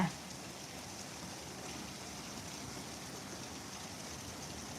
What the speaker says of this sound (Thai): เบื้องฝนตกกันเลยจ้า